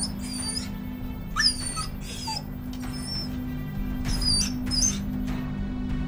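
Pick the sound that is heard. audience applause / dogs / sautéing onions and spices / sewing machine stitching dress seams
dogs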